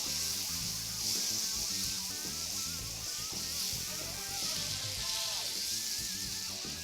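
Shawarma-seasoned skirt steak sizzles steadily in a pan as it is stirred, a constant close hiss over background music.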